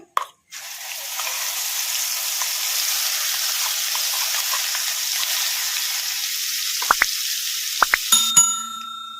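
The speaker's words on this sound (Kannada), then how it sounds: "ಮಸಾಲೆ ಎಲ್ಲ ಎಣ್ಣೆಗೆ ಫ್ರೈ ಆಗೋವರೆಗೂ 2 ನಿಮಿಷ ಫ್ರೈ ಮಾಡ್ಕೊಂಬಿಡೋಣ" Ground masala frying in hot oil for tempering in a curry, a steady close sizzle that runs almost the whole time, with a few light clinks and stirring taps near the end.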